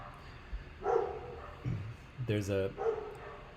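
A big Rottweiler barks from a nearby apartment balcony above an alleyway, several loud, close barks and yips in short bursts, with talking during the clip.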